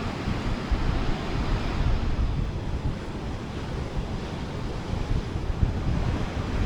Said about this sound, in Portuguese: Muita série de onda explodindo, tá bem tenso